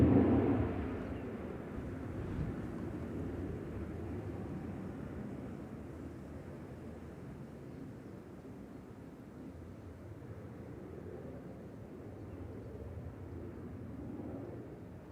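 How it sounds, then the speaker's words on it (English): An Emirates Airbus A380 departing Manchester Airport, a distant low rumbling roar that swells at first and then slowly fades, with no talk. "Emirates A380 OHLKK departing to Helsinki with flight"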